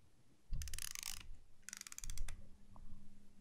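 An Auto Carena 8mm film camera mechanism running in two bursts of rapid clattering whir, close and moderately loud, separated by a short pause with faint handling noise.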